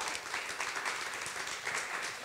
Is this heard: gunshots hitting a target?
no